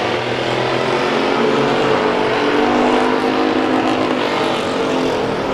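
Hobby stock race cars roar around a dirt oval during a feature race on Mid-Am night, a dense, steady engine drone that stays loud and continuous throughout with no talk over it.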